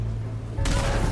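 Gunfire erupts in the fantasy video game Fable 3: a low rumble suddenly gives way to a loud, dense burst of shots about halfway through the short moment.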